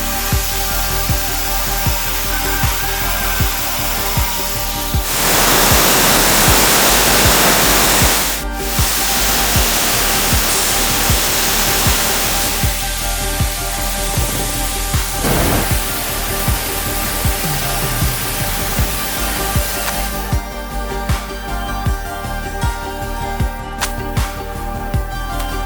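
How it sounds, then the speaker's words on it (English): Dry ice blasting on a car roars as a loud, steady hiss of pressurized spray, continuous and close for the whole stretch, with brief shifts in tone and occasional clunks. "I have a love-hate relationship with dry ice blasting. I love the results, but I hate the mess and the noise it makes."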